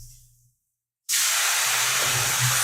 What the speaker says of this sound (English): Super sizzling.